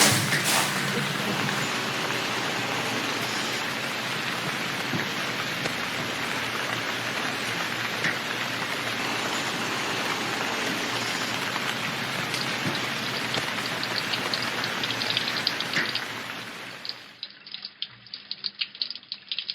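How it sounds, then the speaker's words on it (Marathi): Steady rain falls outdoors, a dense broadband hiss of drops on surfaces that holds for about seventeen seconds, then drops away abruptly to near silence, with no voices over it. "बाहेर पाऊस पडतोय बघ"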